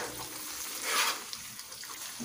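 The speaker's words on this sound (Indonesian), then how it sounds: "Kita masukkan bumbu yang kita blender tadi ya" Blended spice paste for patin fish curry sizzles in a hot pan, a steady hissing fry that swells briefly as it is stirred, heard up close without talk.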